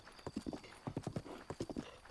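Horse in Breath of the Wild gallops with rapid, steady hoofbeats that are close and clear, over a faint background hum, with no talking.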